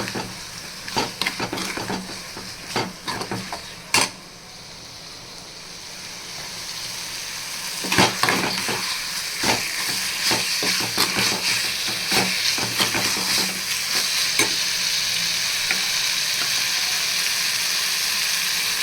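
Mutton liver fries in a pan with tomato and onion, a steady close sizzle broken by bursts of scraping and clattering as a spoon stirs the mix against the pan.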